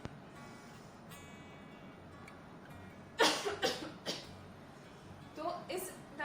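A woman demonstrating a cough, giving a short series of forceful coughs in a quiet room after a few seconds of near silence, close to the listener.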